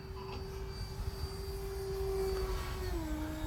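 An RC airplane with its flaps down flies overhead, a steady engine whine holding a sustained tone that shifts downward in pitch near the end as it passes, with light wind noise underneath and no talk.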